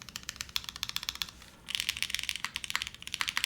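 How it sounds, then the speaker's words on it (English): Rapid, crisp keystrokes clatter on a custom O-ring mechanical keyboard with Cherry stabilizers, a close, steady typing rhythm that breaks off briefly and then resumes in dense bursts. "I would say this is exactly what I would expect from a good O-ring keyboard"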